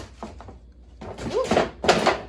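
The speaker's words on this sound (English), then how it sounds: "what you just heard was me knocking into" A bump against a room divider in a small New York studio apartment, followed by thuds and clatter of books tumbling down in two bursts, fairly close and moderately loud.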